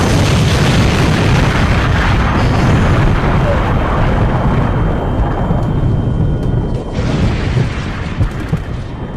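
Grenade and RPG blasts in a VR war video game form a loud, dense roar of overlapping booms and rumbling detonations that rolls on continuously, then eases slightly toward the end.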